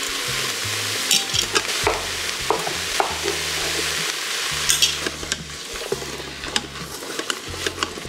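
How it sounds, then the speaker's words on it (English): Garlic and chopped mushrooms sautéing in a pan, a steady sizzle broken by repeated bursts of scraping and stirring, close and fairly loud, with no talk. "Add in some chopped mushrooms."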